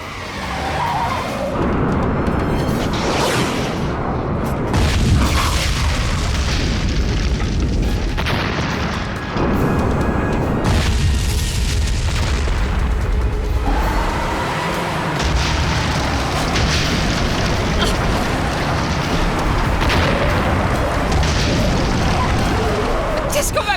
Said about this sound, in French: On dirait que quelque chose a explosé.